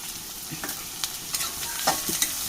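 Onions stirred and frying in a pan for a Kerala-style clam meat roast, giving a steady soft sizzle broken by scattered light scraping strokes, close and moderately quiet with no talking.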